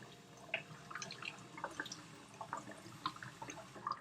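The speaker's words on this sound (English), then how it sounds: "And also keep my orchid under the tap." Tap water runs and drips over a potted Phalaenopsis orchid at a sink, a faint, close trickle with scattered small splashes and no talking.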